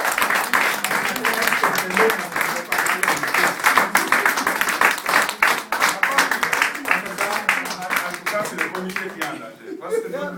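Audience applause with scattered clapping and murmuring at a Congolese community gathering in Windsor, held during a community president election; dense, steady clapping that thins out near the end.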